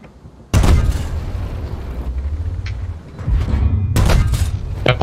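Bomber airstrike explosions in World of Tanks: a sudden heavy boom followed by rumbling blasts, then a second burst of loud explosions near the end, close and forceful.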